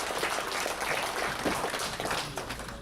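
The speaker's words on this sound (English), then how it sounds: "another round of applause for Nash" A convention crowd at a closing ceremony applauds and cheers in a dense, steady wash of clapping that holds loud and continuous for the whole stretch, with no clear speech over it.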